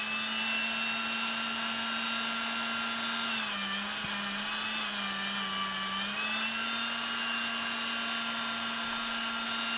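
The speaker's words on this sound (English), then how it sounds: "And then I'm just going to start buffing" A Dremel rotary tool buffing with buffing compound gives a continuous high, steady whine that dips briefly in pitch under load, then settles back, close and loud with no speech.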